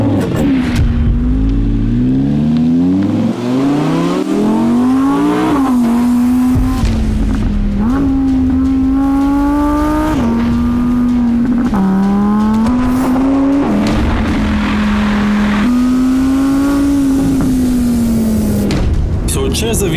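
An Audi R8 supercar with a V10 engine and quattro all-wheel drive pulls hard along a mountain road, its loud, close engine note climbing repeatedly through gear changes without a break.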